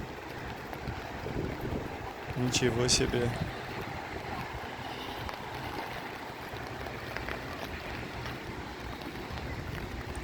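Wind and rain sweep through a park in Tashkent with a steady broadband wash throughout, briefly louder around the third second, while a voice speaks near the start.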